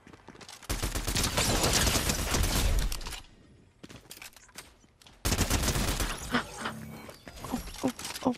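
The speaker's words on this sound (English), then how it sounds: "they're shooting at me" Heavy video game gunfire from enemies comes in dense, loud volleys, breaking off briefly into scattered single shots before another intense barrage resumes, with occasional faint voices underneath.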